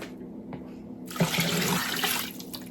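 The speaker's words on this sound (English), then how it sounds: "I'm gonna, again, pour in some water" After a brief quiet, water pours steadily into a metal roasting pan while making beef tallow, a splashing rush that keeps going to the end.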